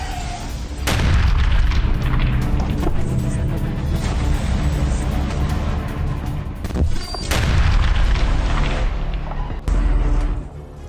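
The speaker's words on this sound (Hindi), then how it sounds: "काफिले में चल रही कार को विस्फोट से उड़ाया गया।" A car in a convoy is blown up in Gaza: loud, booming blasts erupt in succession with crackling debris and rumbling aftershocks, a sharp new burst landing partway through.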